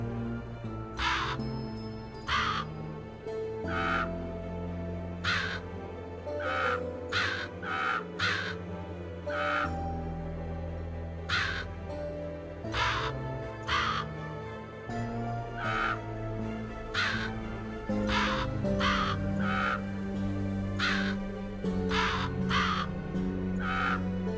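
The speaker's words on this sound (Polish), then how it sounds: "jest jeszcze jeden kruk. Brakuje mi kruka." A raven in the video game Book of Demons caws repeatedly in sharp, evenly spaced bursts over a steady layer of game music, loud and close throughout.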